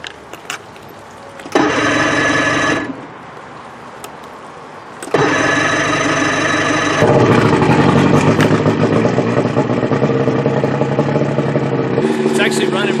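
An outboard boat motor, due for a winter overhaul and treated with a fuel additive, cranks and catches, then runs loud and close with a steady buzzing drone that holds through to the end.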